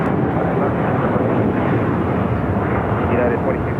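American 3141, a heavy jet, taking off from runway 25 right at LAX, a loud, broad roar of engine noise that holds steady and close throughout.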